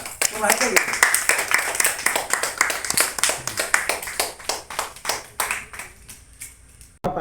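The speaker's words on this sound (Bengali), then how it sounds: "সবাই একটু হাততালি দিন জোরে" An audience at a school felicitation ceremony for two top-scoring secondary exam students claps loudly and continuously, a dense patter of many hands that thins out toward the end, with voices talking over it.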